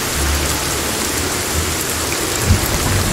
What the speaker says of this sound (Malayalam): മഴ പെയ്ത്.